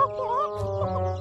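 Cartoon chicks clucking in an Upin & Ipin scene, a short run of chirpy, wavering calls over a low background tone with no talk.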